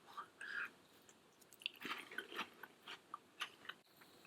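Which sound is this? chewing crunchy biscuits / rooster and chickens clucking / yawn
chewing crunchy biscuits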